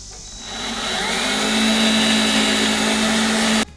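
A power drill whines steadily at high speed for a few seconds while drilling into a wood block, its pitch rising slightly as it spins up, then cuts off abruptly.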